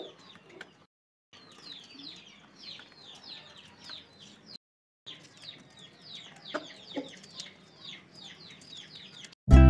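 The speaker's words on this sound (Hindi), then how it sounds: "हमारे चूजे की डाइट, तो माशाल्लाह मेरे हाथ में खा रहा है।" A young chick eats crumbled roti from a hand, making soft, repeated chirps and clucks that run in steady bursts, close by and without speech.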